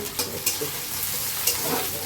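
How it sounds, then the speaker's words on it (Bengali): Onions sizzle steadily in a hot pan, a continuous bright hiss broken by a few stirring scrapes, close and fairly loud. "এটা পেঁয়াজ ভাজা হচ্ছে"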